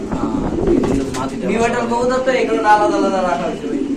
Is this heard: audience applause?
no